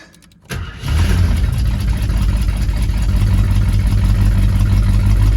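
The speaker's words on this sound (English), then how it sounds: "We're going to start up our Javelin." A 1974 AMC Javelin engine cranks briefly and catches, then settles into a loud, steady, deep idle that continues to the end.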